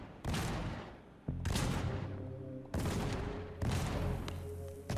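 Four loud, broad shotgun blasts fire in steady succession in the video game Funko Fusion, each with a sharp crack and a decaying tail over tonal game music.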